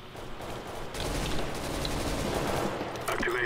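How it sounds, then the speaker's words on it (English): Gunfire from Counter-Strike: Global Offensive, a dense stretch of game shots and battle noise filling most of the clip at steady moderate loudness. "I hear gunshots."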